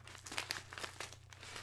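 Parcel of fan mail being opened with old, crusty scissors, a quiet burst of crinkling and tearing packaging with a few sharp snips and rustles, close by and without talk.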